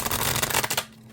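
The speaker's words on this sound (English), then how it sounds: "Shuffle's great, and overhanded shuffle's great too." A deck of oracle cards handled in an overhand shuffle, a quick rapid flutter of riffling card edges close to the listener, then a brief quiet and a final tap.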